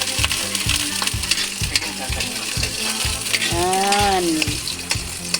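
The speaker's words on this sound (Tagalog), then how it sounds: "Tapos po ay gigisa na natin siya." Garlic sizzles in a hot pan as the cook starts a simple pork and potato dish, with a loud continuous fry under regular scraping strokes of a spatula. A short voice comes in briefly near the end.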